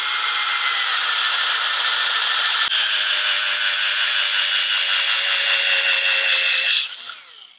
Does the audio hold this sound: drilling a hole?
yes